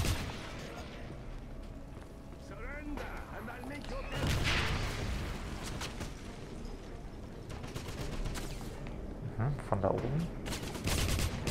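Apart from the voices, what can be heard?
enemy gunfire in the video game Wolfenstein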